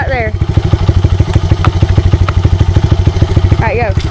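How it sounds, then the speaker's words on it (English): A Honda XR100 pit bike rides on a dirt track, its small single-cylinder engine thumping in a fast, steady pulse close by, with a voice talking over it. "Riding the XR100."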